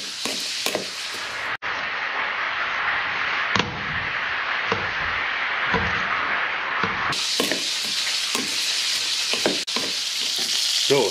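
A coarse Silesian sausage fries in cheap cooking oil in a pan on the stove, sizzling with a constant crackling hiss, broken by a few clicks and scraping stirs.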